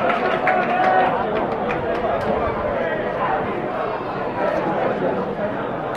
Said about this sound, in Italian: Sono forse quelli che avete sentito, sono alcuni dei, diciamo, tifosi della Coiopelli